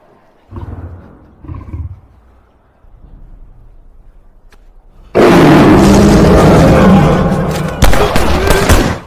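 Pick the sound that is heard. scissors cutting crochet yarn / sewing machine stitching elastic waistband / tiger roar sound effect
tiger roar sound effect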